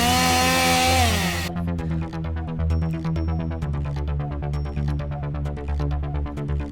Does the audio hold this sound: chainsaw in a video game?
yes